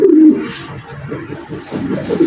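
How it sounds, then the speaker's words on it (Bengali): A young pigeon in a loft gives soft, repeated throaty coos, close by and fairly clear, with no talking. "এই হচ্ছে কবুতরটা"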